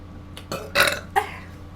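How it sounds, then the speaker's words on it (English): Three deep belches come from a person in quick succession, the middle one the longest and loudest, all close and clear with no talk. "Secret burps."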